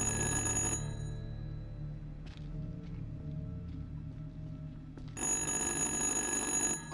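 An old-style telephone rings inside the horror game Little Hope, with a loud bright bell burst, a quiet pause with faint clicks, then the ringing starting again, close and alone.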